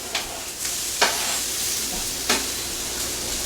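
Poblano peppers frying in hot olive oil over high heat for cheesesteak sandwiches, a constant loud sizzle broken by a few sharp bursts as the pan is stirred, close up and without talk.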